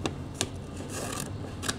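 A few crisp scissor snips cutting fabric up close, three short cuts spaced unevenly against a quiet background.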